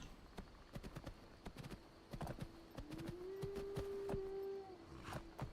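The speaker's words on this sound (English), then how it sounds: "Or you could like just get a horse." Horse hooves clip-clopping in the video game Skyrim with the LoreRim mod pack: a steady run of sharp, close hoof clops, with a rising whinny-like tone midway, no talking.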